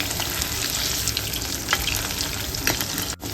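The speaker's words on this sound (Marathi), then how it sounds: "मंद गॅसवर दोन ते तीन मिनटं पलटी करत राहायचं" Chicken liver fries over a low gas flame, giving off a dense, continuous sizzle with a few louder crackles and a brief dip near the end.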